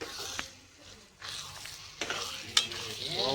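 Olo paste of roasted eggplant with garlic, onion and chili frying in a pan, a soft sizzle broken by stirring scrapes and a few sharp utensil clinks against the pot, moderately quiet.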